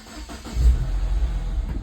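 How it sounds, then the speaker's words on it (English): A Mini Cooper Convertible S starts with its push button: a brief starter whir, then the engine catches and settles into a close, steady idle with a slight rev, no talking. "Just put your foot on the brake, start up the car, push the start-stop button."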